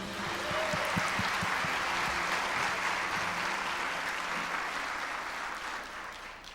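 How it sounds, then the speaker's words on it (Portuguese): A church congregation applauding together, a dense sustained clatter of many hands that holds steady and slowly fades toward the end. "aplauda ao Senhor"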